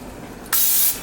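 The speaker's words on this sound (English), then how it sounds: "give those a quick spray with some vegetable oil" Vegetable oil sprayed onto fries in a Mainstays turbo convection oven, a single short sharp hissing burst lasting about half a second, close and loud over a quiet background.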